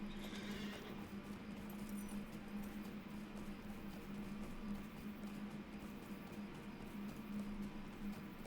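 Faint, steady clip-clop of a horse's hooves while riding in the online game LOTRO, a quiet rhythmic patter under a constant low hum.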